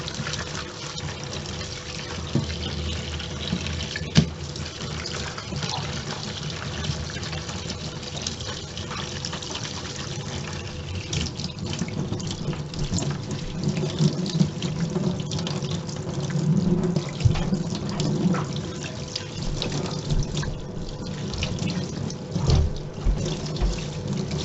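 Water runs steadily from a tap while dyed cotton is rinsed, a continuous close splashing gush with soft sloshing and occasional knocks, no voices.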